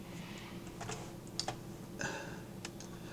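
Light tapping on a computer keyboard while entering lid text in a design program, a few soft scattered keystrokes close by against a quiet room hum.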